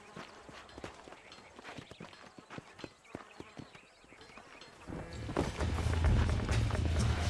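Rhythmic clip-clop of galloping horse hooves in the video game Red Dead Redemption, fairly close, building into a louder rush of movement and rumble near the end.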